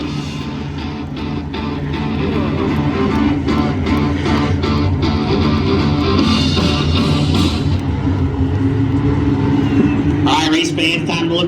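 Front-wheel-drive race cars at Adams County Speedway make a steady low engine rumble in the distance, with an announcer's voice over a loudspeaker throughout.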